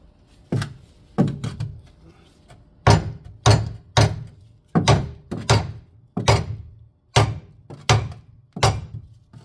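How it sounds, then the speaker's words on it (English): A Bobcat E42 excavator bucket bangs again and again on a stuck load in the bed of an F350 truck, about a dozen loud, heavy metallic thuds at a steady, uneven rhythm, with no talking. "I'm gonna try to keep banging on it to see if it comes out"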